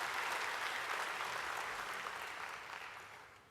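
Audience applauding a team at a live-streamed organizational event, a steady wash of many hands clapping at moderate distance that slowly fades toward the end.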